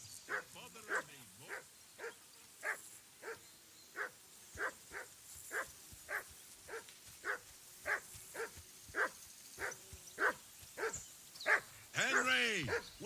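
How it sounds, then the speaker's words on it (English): A dog barks repeatedly in the medieval video game Kingdom Come Deliverance II, sharp evenly spaced woofs about twice a second, close and clear, ending with a whimpering yelp. "whistle at that mutt of yours to stop barking."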